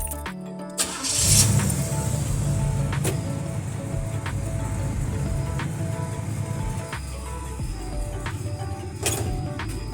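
A 1987 Chevrolet Caprice Brougham engine cranking and catching, then idling steadily with a low, even rumble close by, a few sharp clicks and knocks above it.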